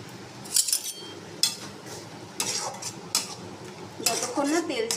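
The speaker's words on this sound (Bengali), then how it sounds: "মশলা কষানো একটু হয়ে গেলে আমি এর মধ্যে হলুদ আর কাশ্মীরি লঙ্কার গুঁড়ো দিয়ে আবার কষাবো।" Masala with turmeric and Kashmiri chili powder is stir-fried in a pan for chicken curry. Intermittent metallic clinks and scrapes of a spoon against the pan come close and fairly loud over only a faint sizzle.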